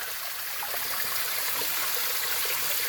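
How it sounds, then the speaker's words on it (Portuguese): The first waterfall at the source of the Tietê river, in a state park in Salesópolis, gives a steady, dense rush of falling water up close that fills the whole stretch evenly with no pauses. "Eu estou ao lado aqui da primeira queda d'água que tem o Rio Tietê."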